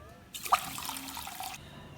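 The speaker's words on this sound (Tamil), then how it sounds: "அதனால் நான் கொஞ்சம் தண்ணி சேர்த்துக்கிறேன்" Water poured into a jar of salted baby mango pickle, a soft splashing pour lasting about a second and a quarter, close and moderately loud, with no talking.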